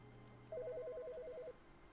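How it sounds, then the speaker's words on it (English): A telephone ringing inside the video game The Stanley Parable, a single electronic ring burst of rapid warbling pulses lasting about a second over a low ambient hum, fairly clear and alone. "I hear a phone."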